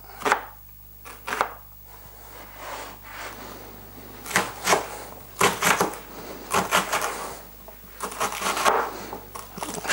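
A knife chops a red onion on a board in sharp, irregular bursts of close, crisp strokes, with short pauses between flurries and no talking.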